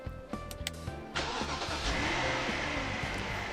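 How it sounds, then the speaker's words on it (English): A limo engine in the video game Persona 4 Arena gives a few quiet clicks, then cranks and starts with a sudden roar that settles into a steady, close, droning run as the car pulls away. "Soon after, the limo begins moving quietly down the road."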